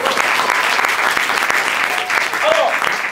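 A festival improv theatre audience claps loudly and steadily, dense applause throughout with a brief voice rising near the end.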